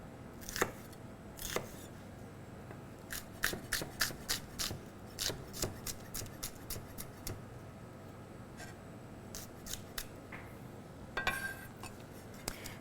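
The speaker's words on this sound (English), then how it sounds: "Also going to dice up some onion" A knife dices onion by hand on a cutting board while crab and dumplings are made in Tobago, giving irregular bursts of sharp, close clicks and taps with pauses between runs.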